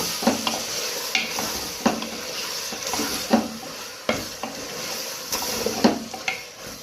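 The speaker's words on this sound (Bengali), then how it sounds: "মাংস কষানো হচ্ছে" Goat or beef meat frying in a pan with ground cumin and other powdered spices, stirred steadily: a continuous close sizzle broken by repeated sharp scrapes and clacks of the spoon against the pan, roughly one every half second to second.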